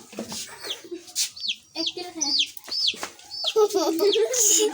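A farmyard chicken clucks close by in a run of short, repeated calls that rise and fall. People talk intermittently alongside it.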